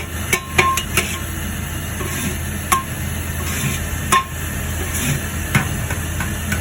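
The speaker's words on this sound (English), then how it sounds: "We're gonna go ahead and add our seasoning to it. Give it a good mix." A utensil scrapes and knocks against a pot while seasoning is stirred into drained, browned meat for chili, scattered clinks and taps over a steady background hiss, close and fairly loud, with no talking.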